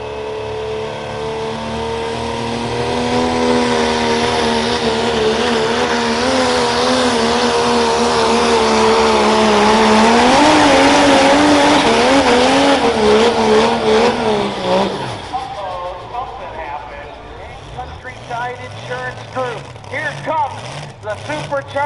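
A supercharged blower pulling truck roars at full throttle down an outdoor pull track, its loud engine climbing and warbling for about fifteen seconds before dropping to a rough, sputtering idle, with an announcer talking over it.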